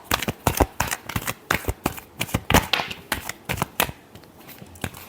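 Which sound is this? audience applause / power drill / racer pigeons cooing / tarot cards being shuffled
tarot cards being shuffled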